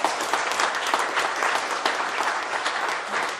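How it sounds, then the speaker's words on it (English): Audience at a youth art prize event clapping in a dense, sustained round of applause, steady and fairly loud throughout. "Another big round of applause."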